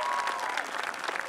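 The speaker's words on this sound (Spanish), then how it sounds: "Carolina Cometti, el aplauso" An audience at a lamb festival in San Jaime gives dense, continuous applause for a festival queen, steady and moderately loud, with crowd murmur mixed in.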